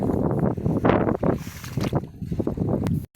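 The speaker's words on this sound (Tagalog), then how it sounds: "Medyo malakas yung hangin" Strong wind buffeting the microphone in a steady, loud roar with gusty swells, alone, ending in a brief dropout, outdoors during electric fishing in rice fields.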